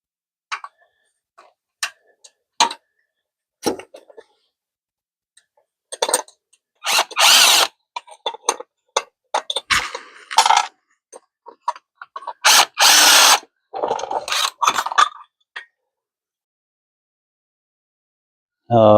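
On a Yamaha 650 V Star motorcycle, a power tool removes the bolts from the oil filter cover in short loud bursts of whirring and clicking separated by silent pauses, close by, with no voices.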